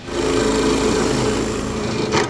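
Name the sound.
drill drilling out a hall tree part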